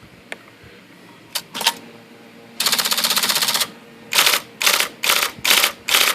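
An IBM Selectric 72 electric typewriter types with a freshly loaded fabric ribbon cartridge: a few isolated keystrokes, then a fast sustained burst of clattering strikes and several more rapid bursts, close and crisp, with no talking.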